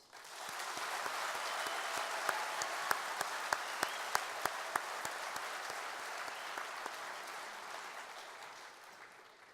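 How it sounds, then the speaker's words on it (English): An audience at the Kansas FFA state convention applauds in a large hall. The steady, fairly quiet wash of clapping swells briefly and then fades, with a few sharper individual claps standing out near the middle. "Please join me in a round of applause for Skylar's administrators, advisors, and parents."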